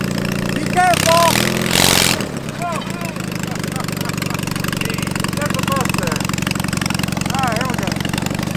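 A homemade push lawn mower fitted with a 450cc twin-cylinder engine runs loud and close. A brief harsher revving burst near the start settles into a steady, throbbing drone, with voices shouting over the engine.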